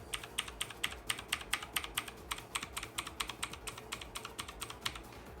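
Fingers type steadily on a HAVIT blue LED backlit wired mechanical gaming keyboard, producing a quick, even stream of crisp, clacky keystrokes at close range with no talking.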